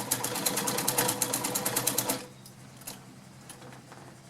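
A vintage White model 533 sewing machine whirs through a rapid, rhythmic blind stitch for about two seconds, then stops, leaving a faint, quiet background.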